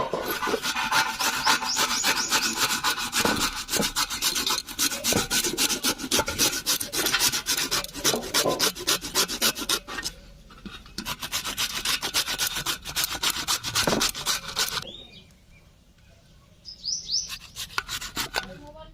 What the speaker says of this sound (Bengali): কিসনি দিয়ে ওলকপিটাকে আমি কুচি করে নেব